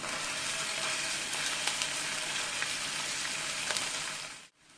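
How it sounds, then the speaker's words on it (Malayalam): Ginger garlic paste sautéing in hot oil in a pan, a steady close hiss and sizzle with faint crackles and occasional stirring scrapes, fading out abruptly at the end. "ഇനി ഇത് കുറച്ചൊന്ന് വഴറ്റാം"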